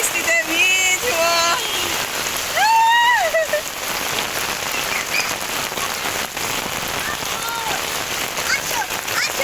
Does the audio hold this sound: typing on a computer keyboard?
no